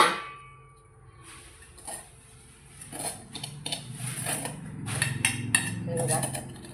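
Cooked flour dough is scraped from a pan onto a plate with a metal spoon, giving repeated sharp metallic clinks and scrapes against the cookware that turn louder and busier in the second half, with some faint voice underneath.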